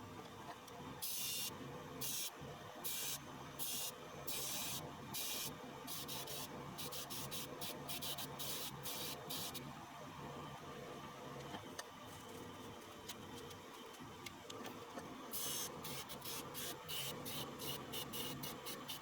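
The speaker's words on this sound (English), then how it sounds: "now we will go to the sander and clean up around the edges" Sander cleaning up the edges of a dark-bodied opal, a steady rubbing grind with bursts of hissy scraping pulses as the stone is pressed against it, close and continuous.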